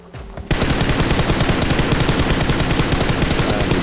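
Rapid automatic gunfire in the mobile game PUBG Mobile, a loud, continuous stream of evenly spaced shots starting abruptly after a brief quiet moment and holding steady to the end.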